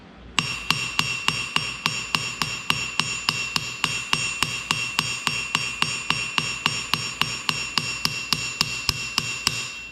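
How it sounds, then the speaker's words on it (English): A hammer strikes metal on an anvil in a fast, steady series of about thirty ringing blows, each with a bright metallic ping, close and alone. "since I'm hitting directly against an anvil, that hammer is going to bounce back just a little bit"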